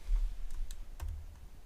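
A computer keyboard typed on while working in the Vim editor: a few sparse, close key clicks with pauses between them over a low background hum.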